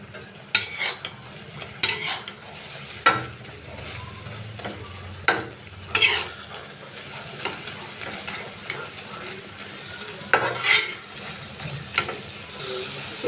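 Prawns and eggplant with spices are stirred in a frying pan, with repeated scraping strokes of a utensil at an uneven rhythm over a soft continuous sizzle, close and moderately loud.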